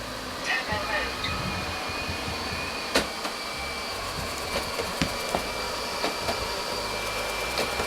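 A robot vacuum cleaner runs in turbo mode, giving a steady whirring hum with a high whine on top and occasional faint clicks and bumps.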